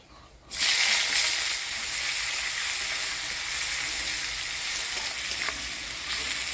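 Chopped onion goes into hot oil already holding dry red chilli, whole cumin and bay leaf for a mutton curry, setting off a sudden loud, steady sizzle that hisses on close by without any voices.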